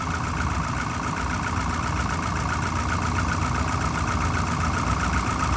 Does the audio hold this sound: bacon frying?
no